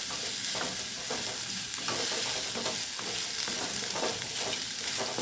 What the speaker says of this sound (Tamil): இப்போ எல்லாம் நல்லா வதங்கிட்டு